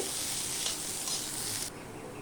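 Potatoes frying in a pan with chopped onion and green chili, giving a steady close sizzle that drops a little in level partway through, with no voices.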